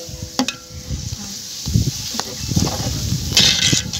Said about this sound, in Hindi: सफ़ेद चने इसमें डालने लगे हैं।